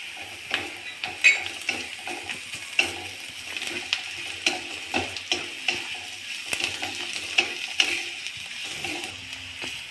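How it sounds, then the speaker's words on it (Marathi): Onion already fried to a reddish-brown with crushed garlic and cumin added, sizzling steadily in a pan while a spoon stirs, tapping and scraping the metal in an irregular rhythm, close and moderately loud. "आपण आता ह्यामध्ये लसूण आणि जिऱ्याचं ठेच ठेचलेला लसूण आणि जिरं टाकणार आहे"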